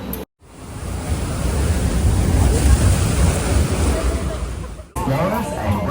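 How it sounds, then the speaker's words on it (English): Boat ride on the Amazon River Quest in Singapore: a steady rushing of water and wind around the moving boat, loud and continuous after a brief cut, then fading into a short burst of a voice near the end. "We're on a boat."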